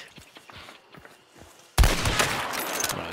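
A single loud Bornheim pistol shot in Hunt: Showdown bursts in after soft footsteps and rustling, followed by a ringing reverberant tail.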